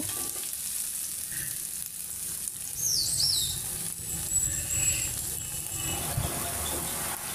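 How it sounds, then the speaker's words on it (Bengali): Bay leaf, black pepper and ginger paste frying in oil with a steady close sizzle and stirring throughout, alone without talk. "তেজপাতা, গোলমরিচ, আদা বাটা দিয়ে এখন ভালো করে একটু নেড়ে চেড়ে নিব।"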